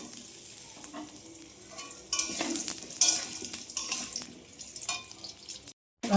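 Crab frying in hot oil in a kadai, a soft steady sizzle with clattering stirs and bursts of louder spitting, then a brief cutout near the end.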